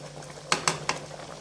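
Thick apricot and plum chutney bubbling in a pan over a gas flame, with three sharp plopping bursts over a low steady hum and faint background hiss.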